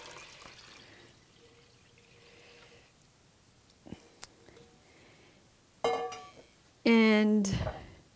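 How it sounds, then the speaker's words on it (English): Tea and sugar mixture poured into a continuous-brew kombucha container, heard as a short burst of splashing liquid near the end after quiet handling noises, close and fairly loud. "now I'm going to pour in our tea and sugar mixture."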